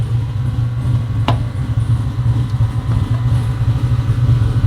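A New Edge Mustang street car with the back seat removed idles steadily close by, a loud, even low engine rumble throughout with one brief sharp click partway in.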